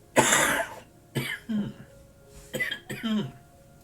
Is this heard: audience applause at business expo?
no